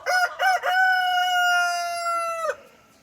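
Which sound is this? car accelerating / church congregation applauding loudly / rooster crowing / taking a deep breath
rooster crowing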